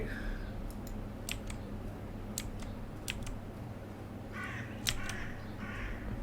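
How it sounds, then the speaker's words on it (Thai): Several short crow caws in a horror video game ring out in quick bursts over a steady low hum, with a cluster of harsher calls near the end. "มีเสียงอีกาจากด้านขวา"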